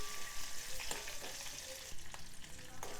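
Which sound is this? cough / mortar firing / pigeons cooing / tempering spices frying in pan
tempering spices frying in pan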